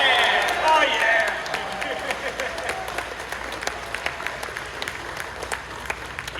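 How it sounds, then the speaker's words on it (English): A convention panel audience breaks into applause and cheering, loudest at the start and fading into scattered clapping and crowd noise with voices underneath. "Let's get a round of applause for kitties and puppies."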